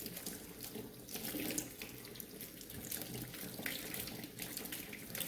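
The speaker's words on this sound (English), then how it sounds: "Rinse it off pretty good." Tap water running steadily into a sink while a cleaned blue crab is rinsed, a continuous close splashing hiss with no talking.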